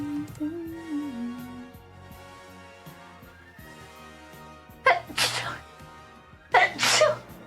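Two loud, close sneezes a couple of seconds apart during a tabletop D&D game, with people talking and background chatter before them.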